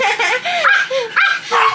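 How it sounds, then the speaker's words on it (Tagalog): A visiting dog indoors gives a quick run of short, high yipping barks, close and fairly loud, in rapid bursts with brief pauses between them. "Sino yung tumatahol? Ito, ah, yung isang bisita."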